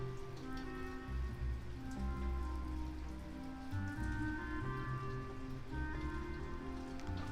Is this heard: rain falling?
yes